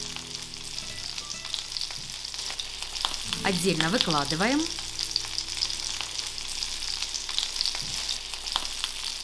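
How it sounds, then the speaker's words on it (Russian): Squid frying in olive oil: steady oil sizzle and frying crackle throughout, with a brief burst of a short spoken phrase midway. "в том же масле поджариваем кальмары в течение 5 минут"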